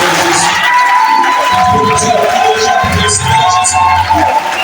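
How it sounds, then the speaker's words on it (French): Church congregation cheering and shouting in praise, a loud sustained crowd roar with whoops and voices mixed in throughout. "Ensemble, acclamer le Seigneur Jésus."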